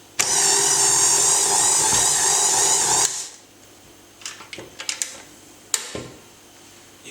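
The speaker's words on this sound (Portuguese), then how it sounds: "depois de 15 minutos eu coloco na batedeira de novo, bato devagar por mais 45 segundos" A stand mixer slowly kneading pizza dough runs with a steady, loud motor whir for about three seconds, then stops, leaving a few faint clicks and knocks.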